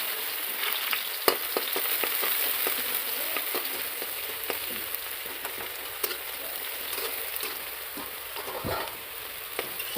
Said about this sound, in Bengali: দেখো পেঁয়াজ রসুনটা ছেড়ে দিয়েছি তেলে।